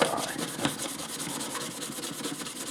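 A hand rubs 600 grit wet or dry sandpaper over a Lyon and Healy terz guitar, making a close, soft, rhythmic scratchy rasp in quick repeated strokes, with no voices.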